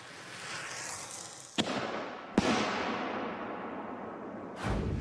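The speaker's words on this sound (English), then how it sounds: "Now we're going to fire a circle shell out of this 6-inch mortar so you can see what it looks like." A circle firework shell launched from a 6-inch mortar: a steady hissing, crackling rush with two sharp bangs early on and another loud burst near the end.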